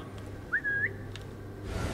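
A single short whistle from a character in Assassin's Creed Mirage, a brief rising-then-level note that is clear and close against a quiet, faintly humming background.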